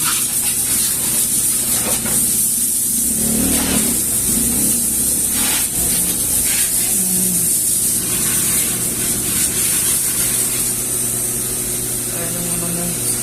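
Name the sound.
helmet cleaning vending machine spraying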